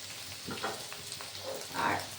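Ginger frying in a pan, a soft, continuous sizzle with gentle crackles, quiet and close, swelling slightly near the end.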